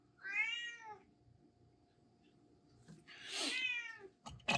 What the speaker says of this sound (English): we've got a cat to come to visit us